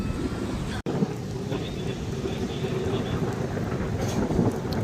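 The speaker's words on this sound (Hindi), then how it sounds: "अभी जी माशाल्लाह बारिश बहुत मज़े की हो रही है" Steady rain pours through a rainy night in Saudi Arabia, a dense constant wash with low rumbling that fits distant thunder, plus gusty wind buffeting the microphone and one brief dropout near the start.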